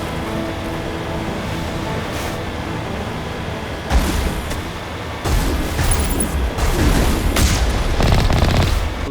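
Turret gunfire in the video game Mass Effect, loud bursts and booming impacts over a constant roar of game ambience, growing heavier toward the end.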